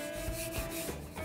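A wooden rolling pin rubs and rolls across floured sweet bun dough in a soft, close, continuous scraping, with faint rhythmic pushes.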